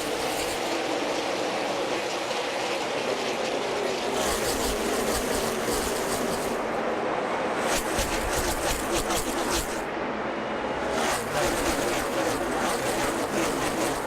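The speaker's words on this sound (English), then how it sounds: "Up through the gears they go, and they'll dive into turn one." A pack of NASCAR Xfinity Series stock cars at Darlington roars steadily as they accelerate up through the gears, forming a dense, continuous engine drone with rising surges and no pause.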